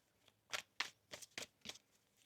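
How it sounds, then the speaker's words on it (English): Tarot cards are riffled and shuffled by hand in about six quick crisp bursts, close and fairly quiet, with no talk over them. "One more shuffle here."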